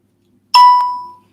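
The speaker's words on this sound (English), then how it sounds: "My notifications are so loud at the minute." A loud phone notification chime sounds once, a bright electronic ding with a quick second tap that rings out and fades over about half a second, alone in an otherwise quiet room.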